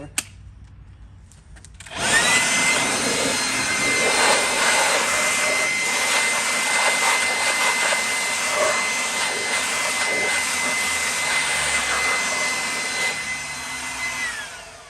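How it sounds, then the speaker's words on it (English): A blower cleaning out a John Deere JX75 mower's air filter starts up after a brief quiet moment, then gives a steady loud rushing whoosh that holds for over ten seconds before easing slightly, with no talking. "I had to go find my blower."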